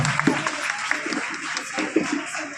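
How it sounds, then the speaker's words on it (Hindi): An audience claps at a school results ceremony, giving a short burst of moderately loud, scattered applause from a crowd that stays even throughout. "वंशिका सिंह राणा जोरदार ताली बजाएंगे।"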